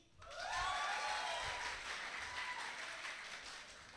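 A church congregation breaks into loud, dense clapping at a worship service, swelling quickly and then holding steady with a slow fade, the applause continuing throughout with no clear talk over it.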